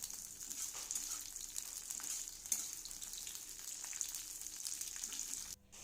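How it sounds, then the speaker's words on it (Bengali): Okra frying in oil with salt and turmeric, a constant soft bubbling sizzle with light crackles, steady and fairly faint, cutting off briefly near the end. "ওই তেলের মধ্যেই আমি ঢ্যাঁড়সগুলো লাল লাল করে ভাজা করে নেব।"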